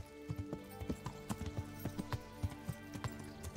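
Horse hooves in the video game Kingdom Come Deliverance clip-clop in a steady rapid rhythm as the horse arrives, close and distinct over a dense background of game ambience.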